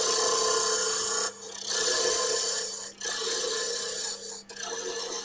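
Carpet hollowing tool scraping the inside of an oak and beech lidded hollow form on a lathe, giving a steady broadband rasp with two or three short breaks as the cut lifts off.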